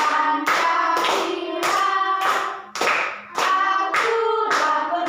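Children in a second-grade class sing the Garuda Pancasila song while clapping their hands together in a steady rhythm, the sharp, evenly spaced claps close and clear under their voices.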